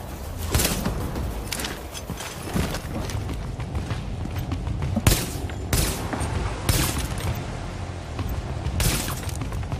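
Sci-fi movie battle with an incendiary blast and gunfire: dense, loud volleys of shots and booms with sharp bursts recurring through the scene over a constant roaring din, no clear speech.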